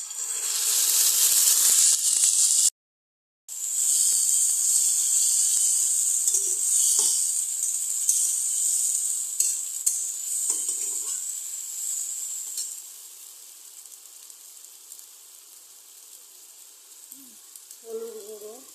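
Bay leaf, onion and ginger-garlic paste hit hot oil in a pan with a loud sizzle that briefly drops out, then continues steadily and gradually fades, with a few stirring scrapes and clinks.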